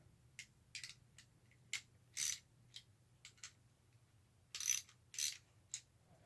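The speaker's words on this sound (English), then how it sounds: "my ratchet just doesn't even want to right now. Doesn't want to switch mode" A ratchet wrench clicks in scattered short bursts while loosening nuts on a Sears-Kenmore box fan under repair, with crisp, quiet, close ratcheting over a faint low hum.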